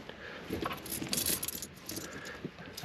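Loose coins kept as parking change drop into a small pot in a car camping setup, a quick flurry of light metallic clinks and jingles, close and fairly quiet with no speech.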